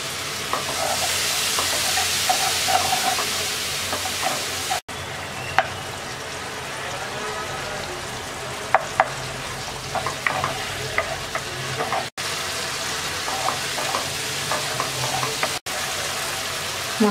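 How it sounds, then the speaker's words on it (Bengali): A spice paste of coriander, turmeric and chili powders sautés with a little water in a pan, giving steady close sizzling with intermittent scraping stirs, a few sharp breaks between stretches. "অল্প একটু পানি দিয়ে মশলাটা কষিয়ে নেব।"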